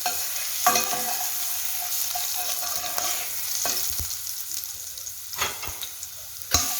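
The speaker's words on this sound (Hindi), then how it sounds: "इसमें हम डालेंगे गार्लिक 1/2 टीस्पून। इसको हम हल्का सा फ्राई करेंगे।" Half a teaspoon of garlic fries lightly in a pan for Chinese-style fried rice and chicken shashlik, a soft continuous sizzle punctuated by a few sharp scrapes and taps of a stirring spoon.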